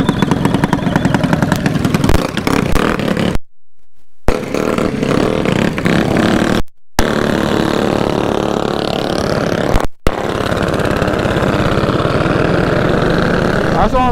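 A mini bike engine runs steadily throughout a night ride in Compton, a loud continuous motor drone with brief cuts, while voices talk over it.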